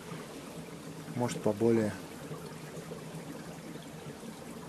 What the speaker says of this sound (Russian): Под ногами здесь тоже какой-то бурный поток, который слышно.